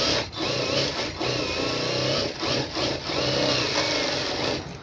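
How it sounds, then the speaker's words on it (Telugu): A sewing machine stitches the edge of a blouse lining, running steadily and close with a continuous whirring hum, briefly pausing and restarting a few times. "ఇలా చివరి వైపున మనం స్టిచ్చింగ్ అనేది వేసేసుకోవాలి"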